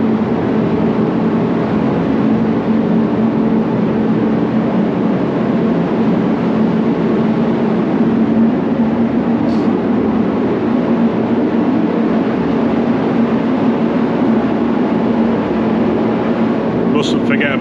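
A paint spray booth runs steadily in a workshop where a VW T2 Bay Window van is being welded and repainted, giving a loud, continuous broadband roar with a low hum throughout.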